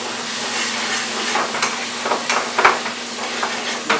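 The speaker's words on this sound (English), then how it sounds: "So we're gonna mix up a little bit." Chicken curry being stirred in a pan with a spoon, steady sizzling hiss under a few scraping strokes, close and moderately loud with no talking.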